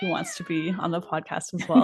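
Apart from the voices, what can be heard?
cat meowing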